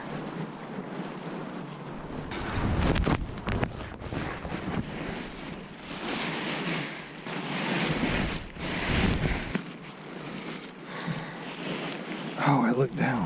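Strong wind buffets the microphone outdoors at a paragliding launch site, a loud, continuous roar with gusty surges that swell and ease throughout, while a voice talks over it now and then.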